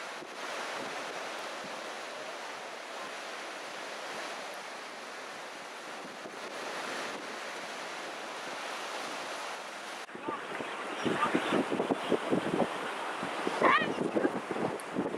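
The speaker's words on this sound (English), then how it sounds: "It's going to be a steady 30-mile-an-hour breeze coming straight at us right off the shore." Strong onshore wind of about 30 mph roars over the surf at Atlantic Beach under a red-flag, no-swimming sky, a steady loud rush that grows gustier and more broken in its last few seconds.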